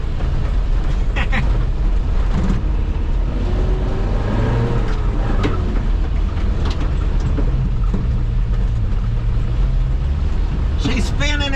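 A truck on mud tires revs hard while spinning in second gear, a loud steady engine roar with rising and falling throttle, and someone talks over it.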